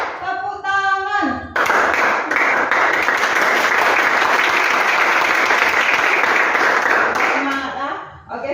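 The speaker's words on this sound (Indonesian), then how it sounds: "tepuk tangan 3, tepuk tangan 4, tepuk tangan 5, tepuk tangan 1, tepuk tangan." A school class claps hands together in a counted rhythm, loud, bright, dense clapping sustained for several seconds, framed by a teacher's voice speaking before and after it.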